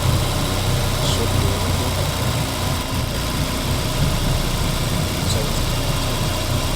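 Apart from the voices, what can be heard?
loud car engine driving in a video game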